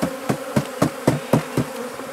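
Honeybees buzz near the microphone as they move from a nuc into a hive body. A steady drone runs under repeated sharp tapping knocks, about four per second, and no one talks.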